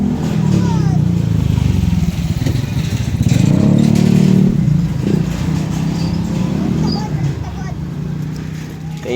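A motorcycle rides past on a residential Philippine street, its engine rising to a loud, close drone around the middle of the pass and then fading, with speech heard at the same time.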